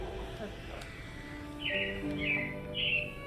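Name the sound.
robins chirping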